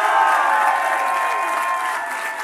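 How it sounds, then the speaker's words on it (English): A political campaign crowd gives a brief burst of applause and cheering, a smooth, sustained wash of sound with a few tonal voices running through it. "Please clap."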